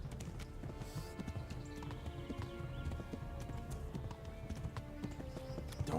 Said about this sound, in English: Come on, horsey. I believe in you.